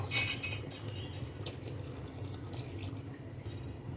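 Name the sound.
pouring tamarind water into dry fish curry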